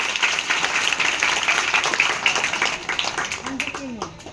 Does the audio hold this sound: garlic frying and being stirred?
no